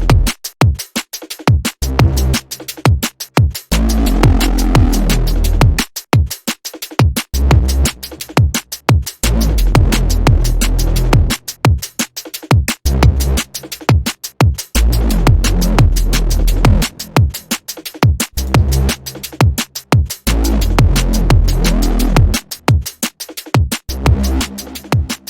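A Serum synth roller bass loop pulses in a steady, driving rhythm, with loud deep bass notes cut by short gaps and shifting modulated tones repeating throughout.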